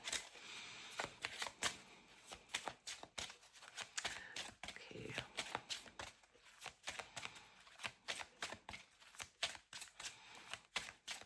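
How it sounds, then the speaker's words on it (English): Rapid riffling bursts of playing cards being shuffled, repeated over and over in quick crisp clusters, close and fairly soft. "quick shuffle and then I'll pick one on camera."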